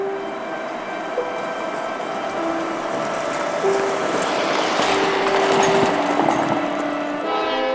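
Two Norfolk Southern freight trains meet near a bridge, a broad steady roar of rolling cars and engines building gradually, with sustained horn tones sounding repeatedly over the rumble.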